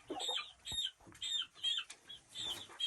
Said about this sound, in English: Got a whole bunch of chickens in here.